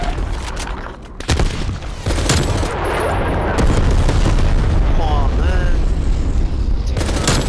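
A cruise missile strike and gunfire on the Crossroads map of Call of Duty: Black Ops Cold War: loud, continuous bursts of shooting and heavy booms that swell into a sustained roar of combat.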